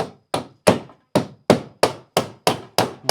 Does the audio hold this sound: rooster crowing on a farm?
no